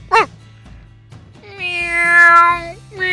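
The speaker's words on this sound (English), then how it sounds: "Meow" A cat meows: a short rising call, then a longer drawn-out meow, with another starting at the very end.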